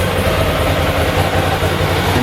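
A Ducati Monster motorcycle sitting in neutral, its engine running at a steady, rough idle with a low loud rumble throughout a short stretch, with no voices.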